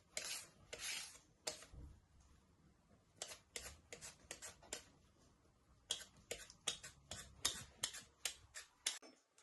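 Parsnips being peeled in a home kitchen, a series of quiet, sharp scraping strokes in irregular bursts with short pauses between them, close to the microphone and without talking.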